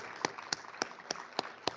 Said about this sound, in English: How about another round of applause for our students, Nathan, Jacob, and Natalie.